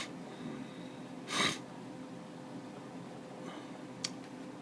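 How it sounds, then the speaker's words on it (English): A single short, breathy sniff near the middle, fairly close, over quiet room hiss, with a faint click toward the end. "I do have the sniffles."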